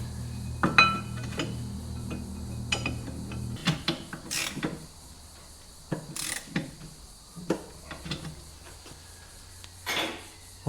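Metal clinks and taps ring out close by as the outer disc brake caliper body is refitted on a Galant hardtop, scattered knocks and short scraping sounds at irregular intervals over a low background hum.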